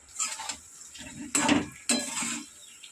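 Fish head stir-fried with spices in a pan, with a spatula scraping and stirring in a few sharp bursts over a soft sizzle.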